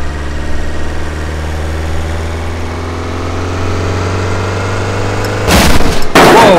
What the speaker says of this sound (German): da gurgelt der Motor sich ein ab